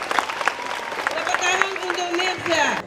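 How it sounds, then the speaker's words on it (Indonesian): Elementary school students clap along at a Heroes' Day ceremony, broken bursts of handclaps under an adult voice talking over them in a schoolyard setting. "Betul, tepuk tangan untuk"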